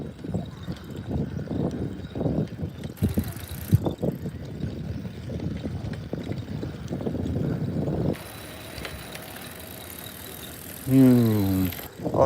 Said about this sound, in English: Oh, so much fun to ride a bike again.